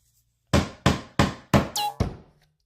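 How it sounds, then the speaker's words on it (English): A hammer tapping a metal staple back into place on a decoupage craft: five sharp, evenly spaced knocks, close and loud, each ringing off briefly. "I like to grab my hammer and do a little tappity tap tap tap on that sucker to get it back in place"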